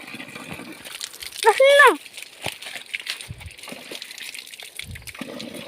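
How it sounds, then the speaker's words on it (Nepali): Water gushing steadily from a spout in the background, with a loud voice call and scattered speech over it. "यहाँ हेर धारा कस्तो राम्रो छ"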